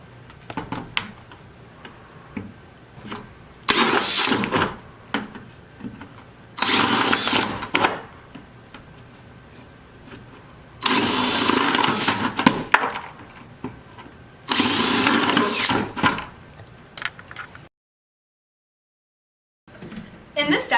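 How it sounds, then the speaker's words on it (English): A power drill with a 1 5/8 inch bit whirs in four separate bursts of a couple of seconds each, grinding holes through a bucket, with quiet pauses and a silent gap between. "So now we're going to drill them with a 1 5/8 drill bit."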